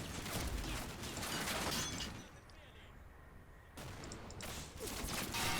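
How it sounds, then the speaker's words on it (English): In the Combat Mission wargame, a .50 cal machine gun fires in dense, rattling bursts, falls to a quieter lull, then starts up again. The sound is fairly faint and muffled in the distance. "So that's 50 cal, just shooting up that team."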